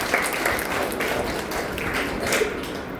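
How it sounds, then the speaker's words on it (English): Lecture audience at a hepatitis awareness talk in a medical college clapping briefly on request, a moderate, uneven patter of hands close by, with no voices over it. "Clap for me"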